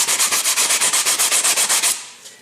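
A flat block rubs back and forth in quick, even strokes across the metal surface of an older Passat 1.8 turbo water neck, about fifteen close, loud scrapes before it stops.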